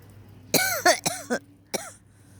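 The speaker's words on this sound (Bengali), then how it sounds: "খুব কাশি হয়েছে কারণ সকালে স্নান করি তো আর ঠান্ডাটাও লেগে গেছে" A person with a cold coughs in a quick series of about five harsh, close bursts with a brief throat clear, heard alone without talk.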